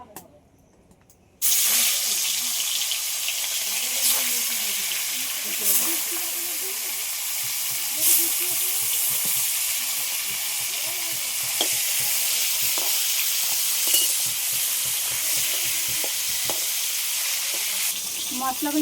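Fish and spices, including turmeric, fry in a pan for a Bengali fish curry: a steady, loud sizzling hiss runs throughout, broken by repeated stirring scrapes, after a brief quiet opening.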